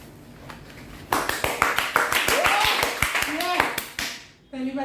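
A small group claps loudly in quick, uneven bursts for someone's entrance on a show set, lasting about three seconds, with people talking and exclaiming over it before a voice follows alone.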